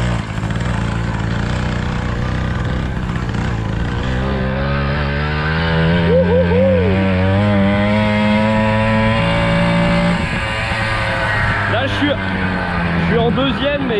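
A Flandria Comet moped engine revs and climbs through its gears while riding, the small engine's buzzing pitch rising and dropping with each shift, loud and close throughout, with a voice talking over it.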